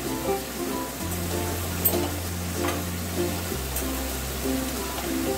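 Moong dal with fish head is stirred while it fries in oil, giving a steady close sizzle with soft scraping stir strokes throughout and no speech.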